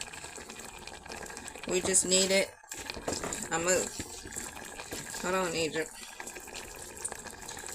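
Water is poured while cooking a homemade peach cobbler, a running, splashing fill in bursts that starts and stops, with people talking over it.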